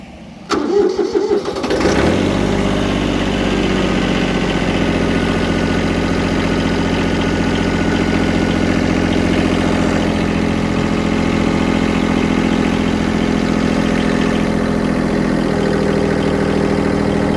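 A Kubota B7100HST compact diesel tractor, 16 hp with hydrostatic drive, cranks briefly and catches, then settles into a steady, loud, close diesel idle with a slight knock that continues to the end.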